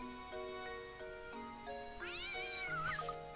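Claudia the cat in the Professor Layton and the Curious Village video game lets out an aggressive, rising-and-falling meow near the end, over steady, gentle in-game music.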